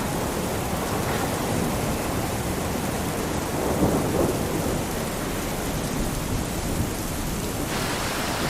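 Heavy tropical rain pours steadily across the Amazon during a thunderstorm, with deep thunder rumbling throughout and swelling to a louder roll midway, a dense continuous wash of sound with no voices.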